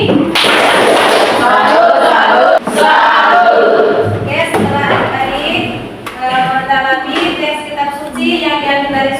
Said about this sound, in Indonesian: Mari kita memberikan tepuk salut untuk Tiani.